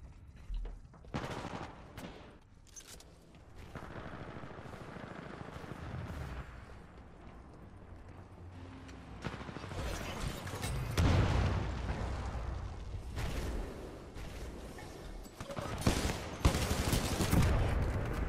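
Titanfall 2 gunfire with shotgun blasts, heard as dense, loud bursts of shots and pops that continue throughout and grow heavier and more frantic toward the end, with a faint voice now and then.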